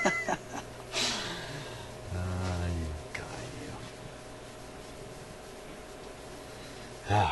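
A house cat meows indoors beside someone repairing a Newcomb TR-1656-M record player, a couple of short rising meows near the start amid quiet room noise and soft murmured talk.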